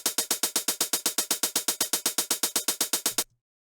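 A steady stream of crisp programmed hi-hat ticks in Ableton, all struck at the same velocity, runs evenly for about three seconds with no accents before cutting off abruptly.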